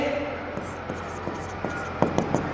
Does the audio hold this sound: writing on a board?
yes